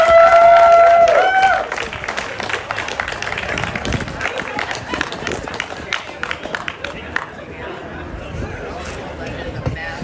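A crowd at a Woonsocket Pride community gathering applauds a speaker, with dense, lively clapping and a few cheers that begin under a voice and then gradually thin out.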